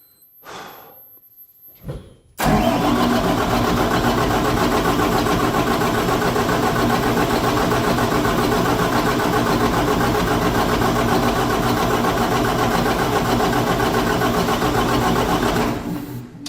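A ZIL truck engine in -10 frost catches after a brief struggle, then roars loudly and steadily at close range for most of the stretch before cutting off near the end.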